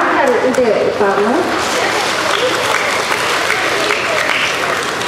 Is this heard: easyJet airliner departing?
no